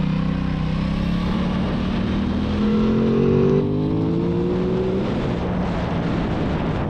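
Aprilia Tuono 660 middleweight naked motorcycle ridden through tight corners, its engine droning loudly and steadily at close range, the pitch rising and falling with throttle changes.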